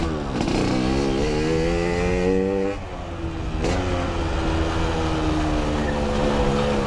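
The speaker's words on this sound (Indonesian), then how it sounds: "Ya sekalian manasin motor aja sih" A Yamaha RX King motorcycle engine warms up with a loud, steady two-stroke drone close by, its pitch rising and dipping slightly with a brief throttle change midway.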